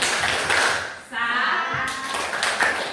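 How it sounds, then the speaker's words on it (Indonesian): A class claps a rhythmic salute, short bursts of clapping broken by a brief pause, with voices heard alongside the clapping. "Kita beri dia tepuk salut."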